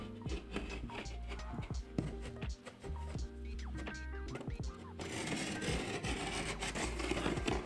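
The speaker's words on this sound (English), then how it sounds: "I'm cutting the plasterboard into small enough pieces that I can get into a rubble bag" Plasterboard being cut into small pieces during internal door framing, giving repeated scraping, rasping strokes, fairly quiet, with a denser, hissier stretch toward the end.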